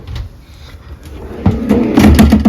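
Large drawers in a Paris Las Vegas hotel room sliding open and shut, a series of close wooden clunks and scrapes that build louder toward the end.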